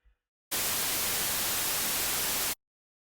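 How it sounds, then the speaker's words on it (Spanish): A burst of white noise plays alone, a steady, loud, even hiss that starts abruptly, holds for about two seconds and cuts off cleanly into silence. "Escuchemos lo que se denomina un ruido blanco"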